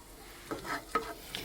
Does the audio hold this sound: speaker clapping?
no